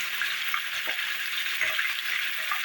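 Garlic and ginger frying in a pan for mutton korma, a soft, steady sizzle with faint stirring scrapes, quiet and continuous with no talk.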